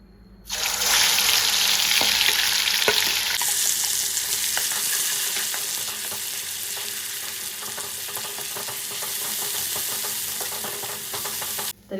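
Mixed masala hits hot oil in a kadhai while a Satara-style mutton curry is being cooked, bursting into a loud, steady sizzle that settles into continuous frying with faint stirring scrapes.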